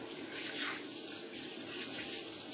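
Soapy hands rinsed under a running tap, a steady soft stream of water splashing into a sink, continuous and fairly quiet with no talking.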